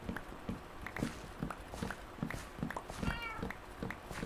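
A cat meows briefly amid a busy indoor room, with repeated soft taps and rustling, light thumping steps and faint murmuring voices around it.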